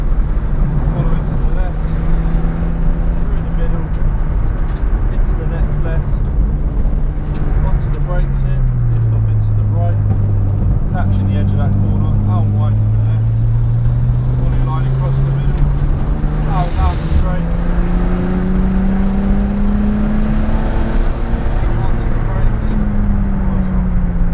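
A Nissan Skyline GT-R34 drifting on a track, its engine drone rising and falling steadily with throttle changes, loud and continuous while people talk over it.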